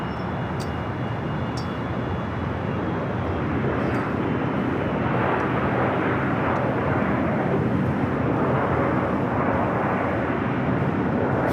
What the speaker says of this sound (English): Philippine Flight 113, the 777-300ER now rolling down to 25 right